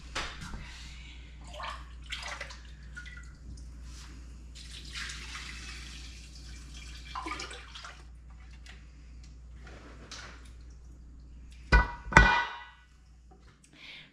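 Liquid is poured through a clean rag and scooped out in a homestead kitchen, with soft splashing and trickling over a steady low hum, then a few louder scrapes and clunks near the end.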